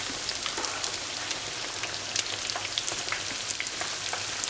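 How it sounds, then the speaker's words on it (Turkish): Minced-meat tava ketesi, a pişi dough, frying in hot oil, with a steady close sizzle and scattered crackling pops that carry on without a break and with no voices. "Şöyle yavaş yavaş kızaracak. Altın rengi alana kadar yağın içerisinde tutacağız."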